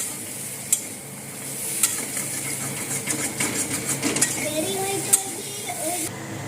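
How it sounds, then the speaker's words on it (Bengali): Fortune soybean chunks frying with potatoes in a pan are stirred with repeated scraping strokes over a low steady sizzle, with a faint voice briefly in the background. "বড়ি লাল লাল করে ভাজা হয়ে গেছে।"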